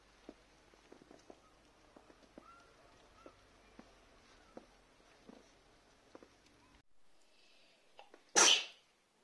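Quiet ambience with soft scattered clicks and taps, then a single sharp, loud sneeze bursts out near the end.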